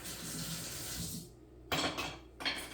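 Tap water runs steadily while a metal garlic press is rinsed in a kitchen sink. The flow stops, then returns in two short bursts with light clatter of metal.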